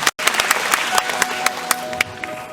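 A charity concert crowd at Chiang Kai-shek Memorial Hall applauds to welcome a singer. The clapping is dense and loud, with a brief gap near the start, then sustained applause punctuated by sharper individual claps.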